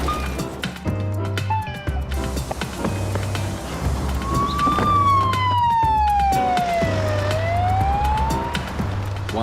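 A police car siren wails with rising and falling sweeps over a rumbling, pulsing background, fairly loud and steady with no talking.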